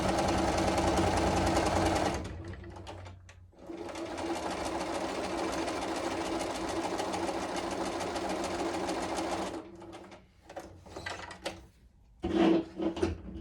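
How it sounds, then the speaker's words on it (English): Sewing machine stitching quilt pieces for a log cabin block: a loud, steady mechanical whir runs for about two seconds, pauses, runs again for several seconds, then breaks into short bursts with handling clicks. "So I'm going to just start my sewing."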